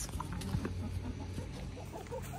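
Backyard chickens cluck softly in short scattered calls amid a steady murmur of farmyard background noise.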